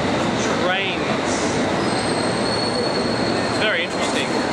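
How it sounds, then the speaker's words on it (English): A train pulls into a London station platform, a loud continuous rumble with metallic wheel squeals rising twice, while people talk nearby. "Is this our train?"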